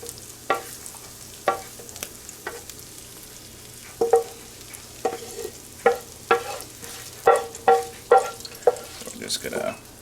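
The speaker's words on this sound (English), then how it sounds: "now what we're going to do is we're going to cook our potatoes" Potatoes frying in bacon and sausage juice in a breakfast skillet, a steady low sizzle under a series of sharp scraping stirs that grow more frequent toward the end, close by.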